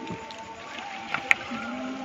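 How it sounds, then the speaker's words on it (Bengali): A rowboat paddled on a village river in rain, soft water movement and a couple of faint knocks from the oar against the hull, quiet and close. "তন্ময় এবার নৌকা বাইতে পারে।"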